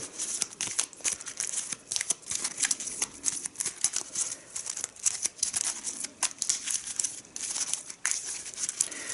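Dense, continuous papery riffling and crinkling as a deck of unsleeved Mage Knight board game cards is shuffled, quick flicking bursts, close and steady throughout, no voices.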